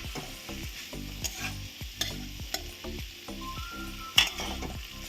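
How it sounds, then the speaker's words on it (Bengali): Shrimp and vegetables frying in white oil in a wok, a steady close sizzle broken by repeated scraping stirs and light metallic clinks of the spatula. "এই সব সবজিগুলো আমি একসাথে ভেজে নিচ্ছি।"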